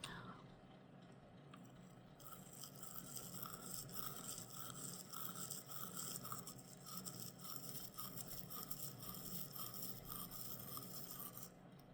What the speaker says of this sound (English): if I move my toothbrush behind my cheek and then bring it forward